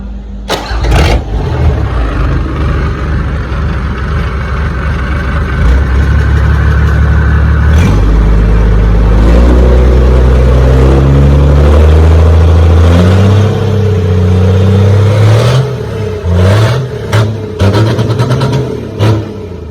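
A large Isuzu 6HE1 six-cylinder 195-horsepower diesel truck engine cranks and starts, then idles loudly with a deep steady rumble, revving up a few times, close by.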